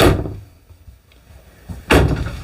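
A soft-closing cabinet door in a Jayco Northpoint 377RLBH fifth wheel RV thuds shut near the start, a quiet pause follows, then a second soft bump as another door closes.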